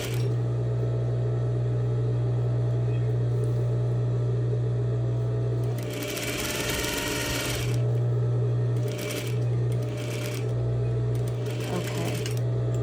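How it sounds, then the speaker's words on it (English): A sewing machine stitches a straight seam with back stitching, a loud steady mechanical hum and rapid needle chatter that briefly drops and resumes, with a voice talking over it. "stitching and back stitching, and then stitching all the way to the edge"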